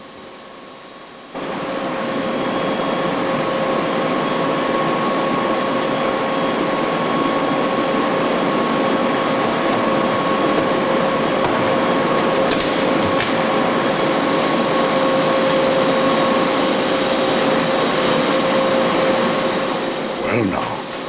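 An RAF aircraft is moved out of a hardened aircraft shelter, bringing a steady loud machinery roar with a tonal whine that runs unbroken for about twenty seconds while someone talks over it.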